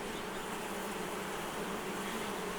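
A dense, steady drone of many honey bees buzzing close around a hive frame during inspection, continuous and even throughout, with no voices.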